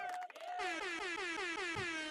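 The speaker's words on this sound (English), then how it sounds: "Let's give you the cheesy, corny air horn, KY." A blaring air horn sound effect sounds in rapid repeated blasts, loud and close, after a short voice at the start.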